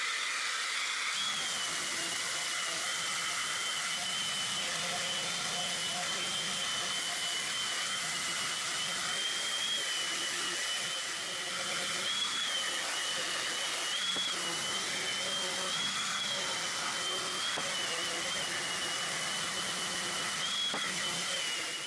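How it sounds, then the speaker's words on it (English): A power sander working over wooden bench boards cut from 2x4s and scrap 2x10, a continuous high whirring drone close by with slight dips and surges in pitch as the tool moves across the wood. "Before assembly, I'm sanding everything nice, clean, and smooth."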